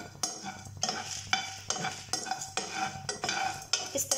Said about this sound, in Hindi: तो चलिए इसे हम रोस्ट कर लेते हैं।